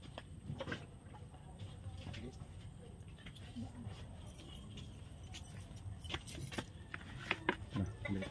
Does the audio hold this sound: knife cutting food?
no